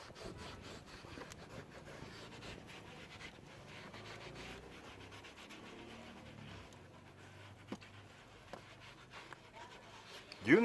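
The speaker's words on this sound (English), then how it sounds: "Do you need to scrub this thing really hard? No, just gently." A rag gently scrubs a car dashboard using Coca Cola, producing a soft, steady rubbing and swishing that stays faint and close throughout.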